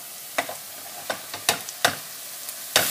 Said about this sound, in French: Donc là, on a rajouté toute la viande.